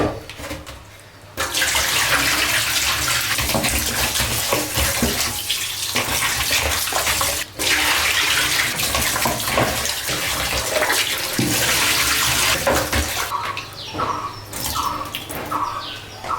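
Steady running tap water splashes continuously over chicken being washed for most of the clip, with brief pauses and some clinking and handling sounds near the end.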